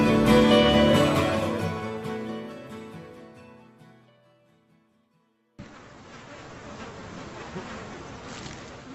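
Music fades out to silence, then a dense, steady buzz of mosquito swarms over the waterlogged Alaskan tundra fills the air, close and continuous.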